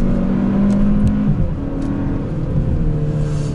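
Hyundai Sonata N Line engine held in second gear, a loud, steady raw drone with shifting tone as revs rise and settle on a winding road, continuous throughout with no talking.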